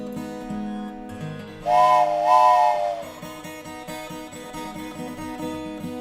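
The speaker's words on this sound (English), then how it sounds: "And it's got a train whistle." A steam train whistle blows once for about a second, loud and wavering, over steady music playing throughout.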